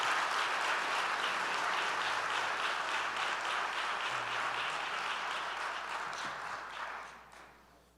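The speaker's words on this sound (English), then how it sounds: "So let's have a big round of applause for Davion Thompson." An audience at a school district board meeting applauds steadily and loudly, the clapping holding for several seconds before tapering off at the end.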